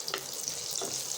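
Cumin seeds and bay leaves fry in hot oil, giving a brief, bright crackling sizzle with a couple of quick pops, close and steady.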